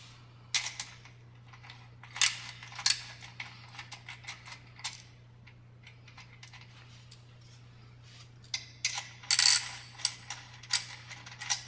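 A ratchet loosens the flywheel nuts on a Schwinn AC exercise bike, clicking in quick bursts of close, sharp pawl clicks separated by pauses over a low steady hum.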